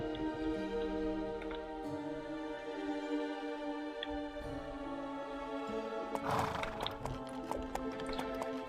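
Horse hooves clip-clop in the fantasy strategy video game Master of Magic, a steady loud rhythm of hoof taps over droning game music, with a brief burst of clatter midway.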